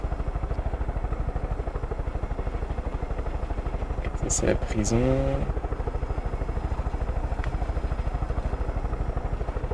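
A helicopter in the video game Far Cry 5, its rotor a steady rapid thumping that runs throughout, with someone talking briefly over it midway.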